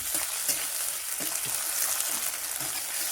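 Close, steady crackle of chopped onion and spices frying in a pan, with occasional scraping from stirring, and no talking.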